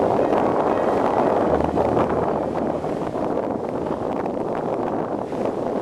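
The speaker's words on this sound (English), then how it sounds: "Figures the wind would pick up, but it felt good on a hot summer day in July." Steady wind gusting across an outdoor microphone on a hot July summer day near an osprey nest, a continuous broadband rush with low rumbling buffeting and no voices.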